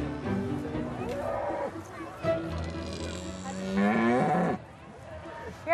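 Beef cattle cow mooing at an agricultural show, several loud, drawn-out moos, one especially strong and close near the end, over a busy showground background with people talking.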